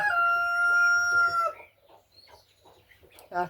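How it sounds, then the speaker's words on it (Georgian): A rooster crows once, loud and close, its drawn-out call ending after a second and a half, followed by quieter rustling and a short sound at the end. "დაიწყო უკვე მამალმა ყივი."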